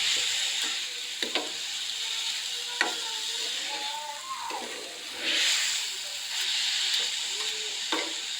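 Grated carrot and sugar being stirred in a wok: a soft background hiss broken by repeated scraping strokes of the spatula at an uneven pace, fairly quiet and close.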